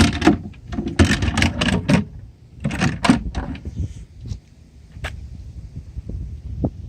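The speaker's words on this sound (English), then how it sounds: "This drawer hits on the bottom like that." A cabinet drawer that is narrower than its opening and falls off its rail, thumping and scraping on the bottom as it slides, giving a rapid run of loud, close knocks and rattles followed by scattered softer clunks.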